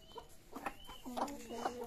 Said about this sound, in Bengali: এই মুরগি বেড়ে গেছে